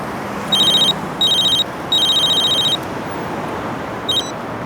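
Telephone bell ringing in bursts, three long trills and a short final one, loud and clear over a quiet room hiss.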